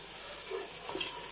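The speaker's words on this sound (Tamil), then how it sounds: "பச்சை மிளகாய் போட்டு நல்லா வதக்கிக்கிட்டு" Green chilies sautéing in a hot oiled pan for prawn biryani, a steady soft sizzle with faint stirring scrapes, close and quiet throughout.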